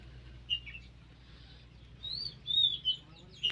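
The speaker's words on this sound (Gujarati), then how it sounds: "ચકલી બોલે છે," A small black sparrow chirps in a village garden with thorny bushes, a few brief, faint calls spaced out over a steady low background hum.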